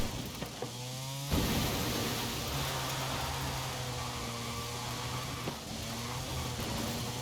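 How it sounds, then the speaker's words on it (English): A rally car on dirt in Forza Horizon 5, engine droning with a rising whine and a sharp surge after a sudden shift, steady gravelly tire noise underneath, no talking. "I love the tire squeal on the dirt as well"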